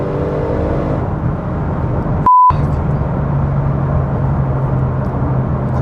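Audi RS6 C7 engine pulling hard under acceleration, a loud continuous roar with a brief electronic beep partway through.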